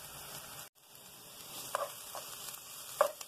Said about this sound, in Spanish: Y vamos a citronar la cebolla con el ajo. Hasta que esté transparente.